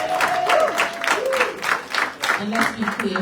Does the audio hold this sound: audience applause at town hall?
yes